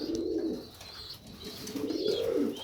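Armavir fighting pigeons coo inside a dovecote in two soft, rolling bursts, close and fairly loud against a faint background hiss.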